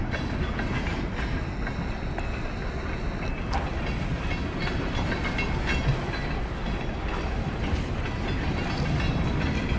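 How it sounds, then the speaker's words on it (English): A long freight train rumbles past steadily, wheels clattering on the rails in a continuous loud roar, with a brief squeal partway through. "It looks so cool to see that long, long train"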